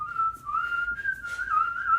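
A person whistles a sustained, wavering melody up close, the tune bending and sliding in pitch with brief gaps, the lone clear sound with no talking.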